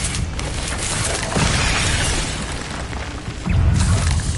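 Confringo blasting spell going off in Hogwarts Legacy, a loud booming explosion with bursting, shattering debris, swelling midway and striking again with a heavier low blast near the end.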